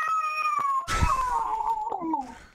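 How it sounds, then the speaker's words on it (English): Two cats fighting indoors, with drawn-out yowling caterwauls and a sudden loud hiss-like burst in the middle, close and loud with no talking. "I don't think we want to hear cats fight."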